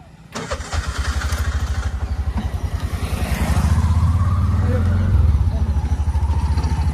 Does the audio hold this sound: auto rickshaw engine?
yes